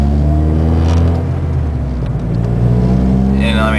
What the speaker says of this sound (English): I'm gonna give some gas.